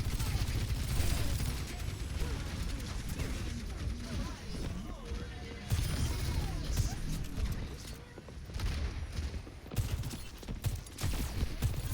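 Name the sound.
gunfire in video game Overwatch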